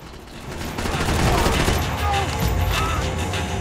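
Bursts of gunfire from Max Payne 3 crackle in rapid fusillades over a dense, loud layer of game noise, with a voice talking over the shooting.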